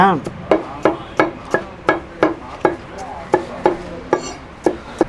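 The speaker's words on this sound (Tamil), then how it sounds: "இஞ்சி பூண்டு சின்ன வெங்காயம் எல்லாத்தையும் இதே போல் அப்படியே குட்டி குட்டியாக சாப் பண்ணிக்கிறாங்க" Shallots, ginger and garlic being chopped into small pieces with a knife on a board, a rapid run of about a dozen sharp, close, evenly spaced chops, no voices.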